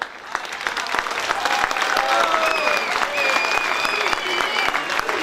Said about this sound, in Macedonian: Може погласен аплауз